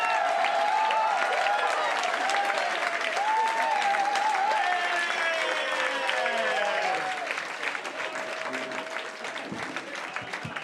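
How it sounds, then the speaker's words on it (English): Sustained applause from a comedy club audience at a stand-up show, dense and steady at first, then thinning and easing off toward the end, with faint voices and cheers mixed through the clapping. "Round of applause for the extra in that section"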